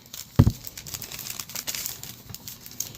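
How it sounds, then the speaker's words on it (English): A thin paper bag crinkles and crunches close by, with a sharp rustle near the start followed by softer scattered crackling. "these paper bags are not really great quality, but they're thin, but they have that crunchy sound"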